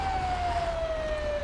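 A fire truck siren in the video game GTA V wails steadily with a slowly falling pitch over a low engine rumble, continuous and moderately loud with no talk.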